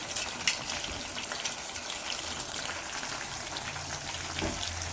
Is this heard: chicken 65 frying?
yes